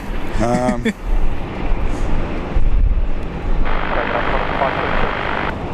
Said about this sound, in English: that aircraft is tracking west, but it's using the east runway again